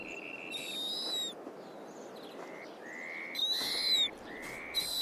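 An owl calls in a tundra setting with two bursts of high, whistling, drawn-out hoots, separated by quieter shorter notes over a faint hushed background.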